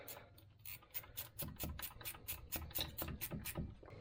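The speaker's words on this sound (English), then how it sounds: "Crank this bolt down here." Ratchet cranking down a bolt while installing a TORQ locker in a Jeep 8.25 XJ axle, giving a fast, steady series of faint clicking strokes close by.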